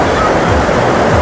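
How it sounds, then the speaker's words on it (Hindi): Strong ocean waves crashing at a beach in Bali, a loud continuous roar of surf close by with a wind-buffeted rumble and no pause. "बहुत तेज़ लहरें आ रही है"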